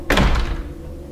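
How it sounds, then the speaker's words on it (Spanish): A single door slamming shut as a sound effect, one sharp close thump followed by a short fading rumble. "tras de mí se cerró la puerta que había dejado emparejada"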